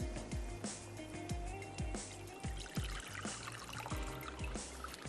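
Water is drained from cooked mushrooms in a kitchen, a steady splashing pour with gurgling trickles and small clinks, close and fairly loud throughout.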